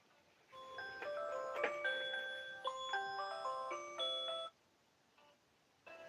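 A phone or clock alarm chimes in a steady series of bright electronic tones for about four seconds, fairly close, then stops, with a brief return at the very end.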